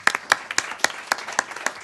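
Audience applause at a National Cancer Prevention Workshop town hall, a run of sharp, fairly evenly spaced claps from a modest crowd, close and clear with no voices over it.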